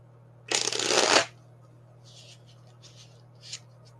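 Tarot cards shuffled in one dense riffling burst lasting under a second, up close and fairly loud over a steady low hum, followed by a few faint card slides and a small soft tap.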